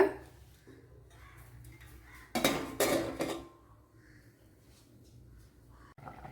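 A metal lid set onto a pot of soya chunks curry, a burst of clattering and rattling for about a second amid quieter kitchen noise.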